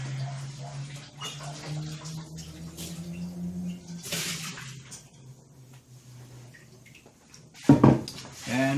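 Water splashing and dribbling while a cast iron Dutch oven is rinsed out, intermittent faint trickles and a couple of louder sloshing bursts near the end, close by over a low background hum.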